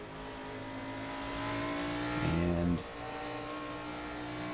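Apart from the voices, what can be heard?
NASCAR race car engine at Road America, from a video game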